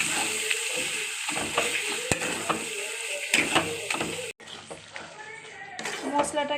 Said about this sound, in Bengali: মশলাটাকে আমি ভালোভাবে ভেজে নিয়েছি।